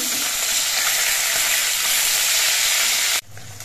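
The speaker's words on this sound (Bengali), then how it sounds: "মাছগুলো এক পিঠ কিছুক্ষণ ভাজা হয়ে যাওয়ার পর মাছগুলো আমি উল্টে দিচ্ছি।" Small khoyra river fish fry in hot oil, a loud, dense, continuous sizzle close up that cuts off abruptly near the end as the pieces are turned over, with no talking.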